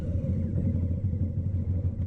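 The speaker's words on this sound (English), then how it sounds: "That characterful startup is the most essential ingredient" A 2021 Harley-Davidson Street Bob motorcycle with its new engine, just started, settles into a loud, close, steady low rumble with uneven lumpy pulses and no talk over it.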